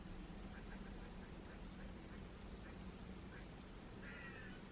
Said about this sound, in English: There's a very noisy bird outside now.